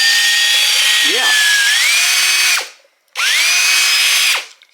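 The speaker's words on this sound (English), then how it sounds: "So that's almost a new drill." A DeWalt cordless drill powered through a Waitley battery adaptor whirs loudly at steady speed, dips and rises in pitch, then stops; a second burst spins up and runs on before winding down. No talk.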